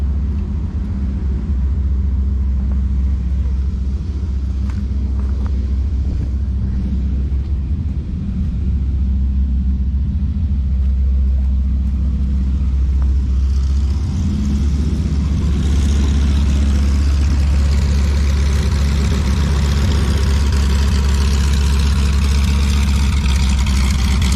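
A steady low engine rumble and whine from a nearby Wilga aircraft taxiing past, the pitch swelling slightly toward the end.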